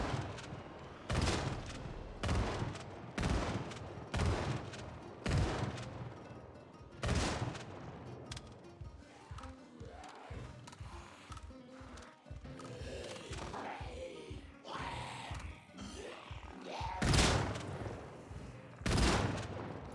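Guns firing in a zombie survival game, a string of sharp, loud shots in irregular bursts and single cracks spread across the stretch, some rapid volleys, others spaced apart with quieter rumbling between.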